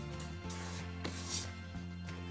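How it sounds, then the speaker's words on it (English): A spatula scrapes around the sides of a mixing bowl of batter, giving a few short rasping strokes over a steady low hum at an even, close level, with no talking. "I'm just going to scrape the sides of my bowl"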